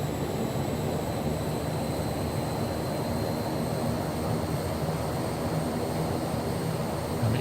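Fokker F27 turboprop engines droning in flight over a city in a flight simulator game, a steady, loud, unbroken hum with a faint high whine holding throughout.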